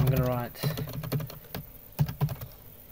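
Computer keyboard keys clatter in quick irregular bursts of typing, with short pauses between runs, close and clear, while code is entered in VB.NET.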